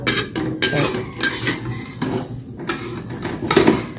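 A pan lid is lifted off a pancake cooking on the stove, giving several close metallic clanks and scrapes of cookware at an uneven pace, with faint sizzling beneath.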